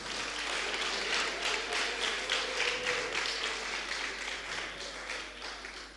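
Sustained crowd applause greets a high school prize winner receiving a tablet at an ICT fair, a thick wash of many hands clapping that tapers slightly toward the end.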